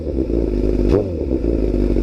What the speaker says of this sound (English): Give you guys a couple revs here.